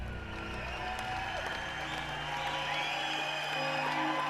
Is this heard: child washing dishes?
no